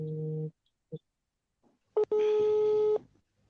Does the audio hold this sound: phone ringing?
yes